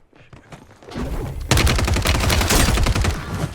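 Rapid automatic gunfire in the Call of Duty Warzone video game, sparse shots at first, then a loud, dense burst of repeated shots from about halfway on, close and sustained.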